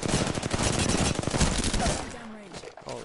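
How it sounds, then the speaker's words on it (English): Rapid bursts of automatic gunfire rattle in a shooter video game, dense overlapping shots that thin out toward the end as a voice talks over them. "Shots fired"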